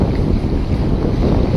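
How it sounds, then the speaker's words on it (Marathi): Big sea wave surging along the Konkan coast of Maharashtra, a loud steady wash of water with heavy wind rumble across the whole moment, no voices. "मोठी लाट आली।"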